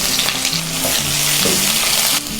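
Sliced onions hit hot oil with popped mustard seeds for a quick rice dish, setting off a loud, close, steady sizzle with stirring scrapes. The sizzle eases slightly at the very end.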